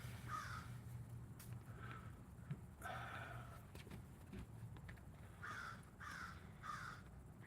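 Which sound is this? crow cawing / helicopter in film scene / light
crow cawing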